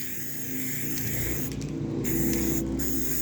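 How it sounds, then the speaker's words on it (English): A steady hiss of color-shift spray paint from a can runs nearly continuously, with two brief pauses, close and fairly loud over a low hum, while working on a resin table. "so I'm gonna just spray here."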